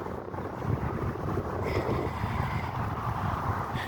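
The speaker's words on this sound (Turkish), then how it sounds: "Şu anda biraz rüzgar çıktı." Steady wind blows across the microphone at a fishing pond, a low, rumbling rush that stays fairly even and soft throughout, with no one speaking.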